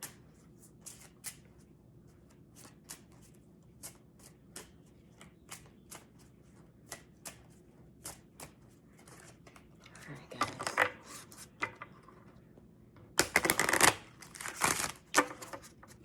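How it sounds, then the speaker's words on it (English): A tarot card deck being shuffled by hand, giving a steady run of light, quick riffling taps and card flicks close by, with brief louder bursts of shuffling near the end; no talking. "I'm going to pull a major arcana from my body tarot deck"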